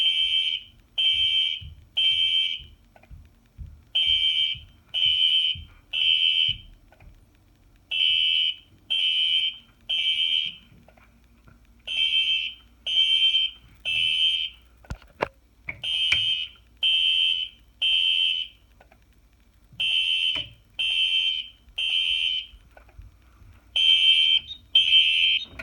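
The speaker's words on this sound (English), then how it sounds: "You can hear the strobes are getting to become a little out of sync. You can hear two clicks almost." Fire alarm horns on a panel's notification circuit sound in loud, repeating bursts of three, with strobe units clicking faintly in the gaps between the horn blasts.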